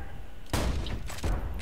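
Gunfire in the Borderlands 2 video game: two loud, booming shots about three-quarters of a second apart, close and with no talk over them.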